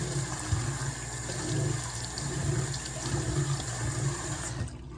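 Steady running water from a tap wets a pair of sneakers for cleaning, a continuous close splashing flow that cuts off just before the end.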